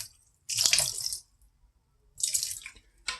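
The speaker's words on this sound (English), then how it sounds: "I'm just gonna pour a little vinegar" Vinegar is poured over raw snapper in a kitchen to wash the fish: two short, close splashing pours separated by a pause, with a brief trickle at the end.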